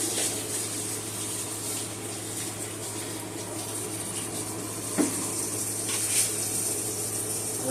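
A kitchen tap runs steadily over half a red pepper being rinsed, a continuous moderate stream of splashing water with a low hum underneath and a couple of brief clunks.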